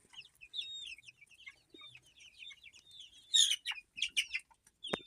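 Young chickens in a backyard chick pen cluck and peep in short, soft calls mixed with brighter chirps. The calls are scattered and intermittent, with a few louder bursts toward the end, and nobody speaks.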